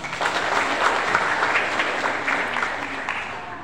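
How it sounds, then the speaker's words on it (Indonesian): Audience applause fills an Indonesian government outreach event on Papuan women's political participation in Central Papua, a steady dense roomful of clapping held at an even level throughout. "Mari kita tepuk tangan."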